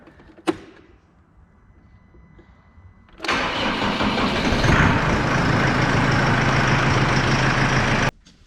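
A New Holland T4.75 tractor engine sits quiet, cranks after a few seconds and fires, then runs at a loud, steady idle before cutting off abruptly near the end.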